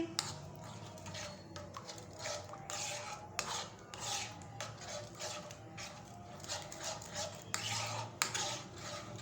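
A spoon scrapes and rubs around a pan, stirring a thickening tamarind mixture for chana chaat over a low flame, in quiet, irregular strokes with no talking.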